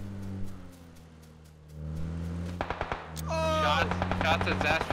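Gunshots ring out in PUBG, a rapid series of sharp cracks in the second half over a steady low engine hum, with a brief chirping effect partway through.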